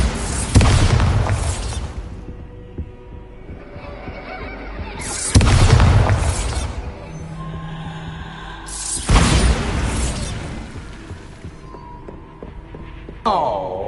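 In Hogwarts Legacy, the Bombarda spell goes off as three heavy booming blasts spaced a few seconds apart, each a loud close burst that fades into a rumbling tail.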